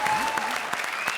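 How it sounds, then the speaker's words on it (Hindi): A short burst of audience clapping at a comedy show, dense and steady for about a second, with a voice briefly audible over it. "ठोको ताली इसके लिए।"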